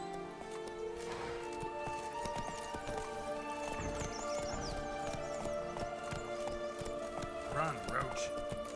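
Hooves of Roach, the horse in The Witcher 3, clip-clopping at a steady run with a whinny, layered under game music and a talking player.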